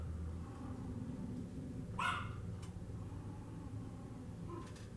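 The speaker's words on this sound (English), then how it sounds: "Sorry, I have dogs." Household dogs bark once at some distance, a short muffled yap standing out over a steady indoor hum, with a fainter yip near the end.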